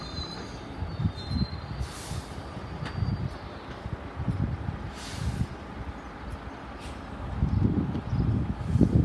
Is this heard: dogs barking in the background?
no